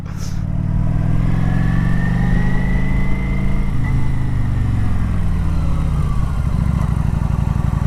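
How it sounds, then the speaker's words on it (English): A motorcycle engine drones loud and close, its pitch rising and falling through a corner as the rider eases off the brakes and accelerates out, steady throughout with no voices. "I'm braking, letting off, and accelerate out."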